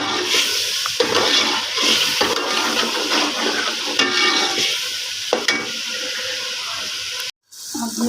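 Spice masala for a chicken and spinach dish sizzles and fries in a hot pan, a steady crackling hiss broken by a few sharp scraping stirs and a brief pause near the end.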